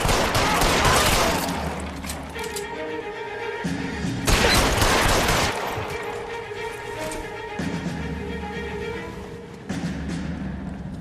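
Rapid bursts of gunfire ring out in the 1940s crime video game L.A. Noire, loud, dense volleys with crashing impacts, pausing briefly and then resuming in repeated bursts over several seconds.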